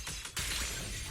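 A glass shattering effect from the Zenless Zone Zero video game: a short, bright crash of breaking shards followed by a brief scattering tail.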